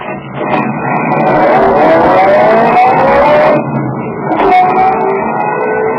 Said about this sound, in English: I got in my car, drove down to Walnut Street.